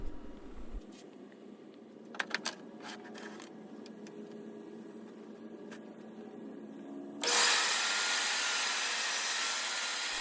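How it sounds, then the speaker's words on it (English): A table saw fitted with a flat top blade cuts angled slots into a glued-up block of three wooden sticks, with a steady loud whine that swells sharply toward the end, broken earlier by a few brief knocks. "I am using a flat top table saw blade here."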